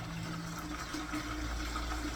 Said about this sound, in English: So the next thing is to top up with a little bit of water.